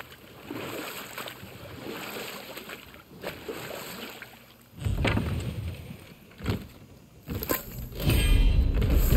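A boat glides across a lake in God of War, with water lapping and splashing steadily against the hull and louder surges of rushing water toward the end.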